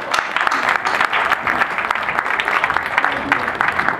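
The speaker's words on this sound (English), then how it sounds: "Please clap for us." Audience applause fills a Ghana @60 celebration evening in Stockholm, a dense, steady clatter of many hands clapping loudly and continuously throughout.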